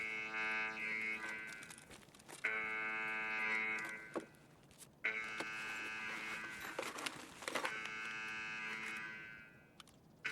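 A harsh, buzzing alarm blares in Escape from Tarkov in long repeated sustained blasts separated by short gaps, droning on steadily and fairly faint.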